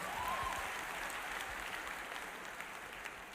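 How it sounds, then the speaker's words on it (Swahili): A church congregation applauds, a faint, steady patter of many hands clapping heard at a distance with no voices over it. "mpigieni makofi"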